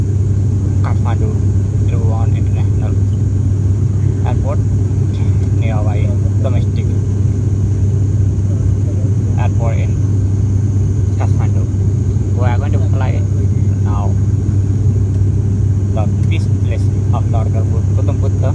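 An airplane taking off from the domestic terminal of Kathmandu's Tribhuvan airport drones with a loud steady low engine rumble from inside the cabin, while someone talks over it throughout.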